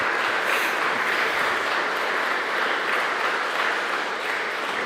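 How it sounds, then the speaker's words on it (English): Audience applause after a lecture on Vatican II, a dense, even roar of clapping from a room of listeners, sustained at steady loudness throughout with no voices over it. "a round of applause for his lecture."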